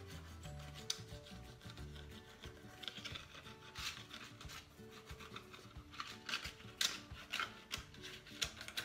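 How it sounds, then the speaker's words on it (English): A bamboo skewer scratches and rasps across dry paint in short, uneven strokes, up close and quiet, with no voices. "just scratching away with the bamboo."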